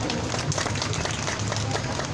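Crowd at the 1399th Wednesday Demonstration over Japanese military sexual slavery keeps up a thick, continuous wash of outdoor applause, steady and moderately loud, with a low hum running beneath it.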